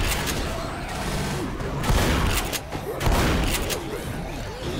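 Rapid gunfire bursts from the zombie co-op shooter Left 4 Dead on Expert difficulty, loud and continuous with heavier booms, players shouting over the shots.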